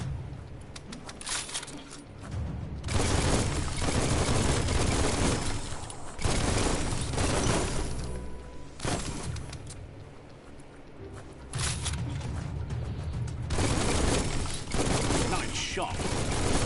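Ranged-attack gunfire in Biomutant, dense bursts of game shots layered over a continuous combat soundtrack, loud and sustained with brief lulls, with speech mixed in.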